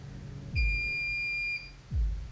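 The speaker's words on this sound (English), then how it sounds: "sounds like a fucking microwave beep" A single steady electronic beep like a microwave's, clear and close, holding for about a second, with dull low thumps just before and after it and no voices.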